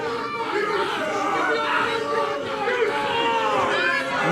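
Crowd at a live Chaotic Wrestling event, many voices chattering and calling out in a steady, dense roar across the whole span, with bursts of shouting but no clear single voice.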